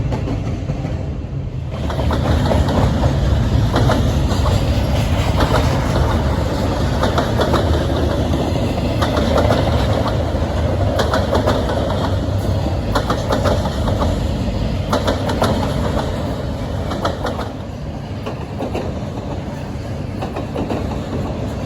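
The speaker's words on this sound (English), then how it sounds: "you can see the trains are clearly visible coming out of the tunnel" A Norfolk Southern train on the Pittsburgh Line rumbles past from a tunnel mouth on an autumn day, a loud, steady roar of engine and rolling cars with clattering wheels that holds for the whole stretch and eases slightly near the end.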